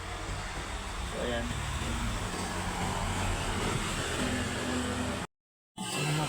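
A hot air blower runs on the panel screen of a 32-inch LED TV under repair, a steady loud rushing roar that continues almost throughout, cut briefly near the end, while someone speaks a few words.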